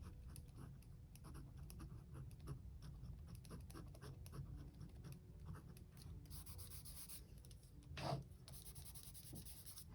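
A Zebra Tapliclip pen writing on paper makes faint, continuous, close scratching strokes with one brief louder scrape near the end. No one speaks.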